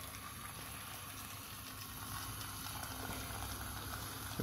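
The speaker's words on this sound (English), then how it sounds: "I've got a kettle full of boiling water here." Boiling water from a kettle pours steadily into a pan of salted potatoes on the stove, a continuous bubbling, rushing wash that grows slightly louder partway through.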